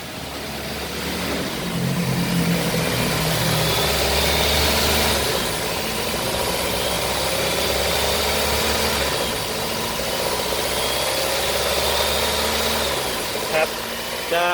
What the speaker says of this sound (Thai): ได้ยินว่าเสียงเครื่องยนต์ที่รอบเดินเบาเนี่ยนอกจากรอบเดินเบาสูงแล้วเนี่ยนะครับ ยัง ยังมีอาการสะอื้นขึ้นสะอื้นลงนะครับ